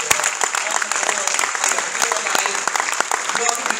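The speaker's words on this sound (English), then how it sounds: "Let's give them a big hand." Loud, dense audience applause at a public meeting, filling the room with crisp overlapping claps and some crowd voices mixed in.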